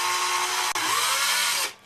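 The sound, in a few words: drill bit drilling plastic at low revs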